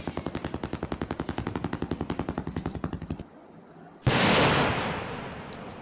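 Firecrackers go off in a firecracker simulator video game: a rapid, evenly spaced string of sharp bangs lasting about three seconds, a short lull, then a single loud burst trailing into a sustained crackling hiss.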